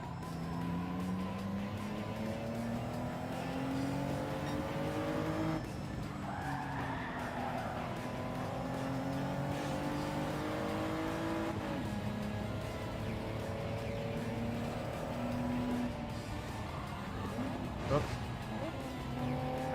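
Race car engines drone and shift pitch through gears in Gran Turismo 7, with tires squealing and skidding as cars corner and pass, a steady continuous roar with a voice talking over it.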